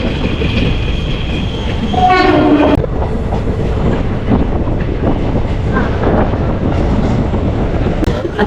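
A train arrives at Angadippuram railway station on the electrified Nilambur line, rumbling loudly and continuously nearby with rolling wheel noise and a brief horn-like tone early on, no talking.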